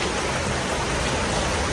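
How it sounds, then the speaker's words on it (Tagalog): A downpour of heavy rain hammers a terrace in a thick, constant wash of noise, loud and near, without pauses or speech. "napakinggan nyo na nga kung gano'n nga kalakas nga ang ulan"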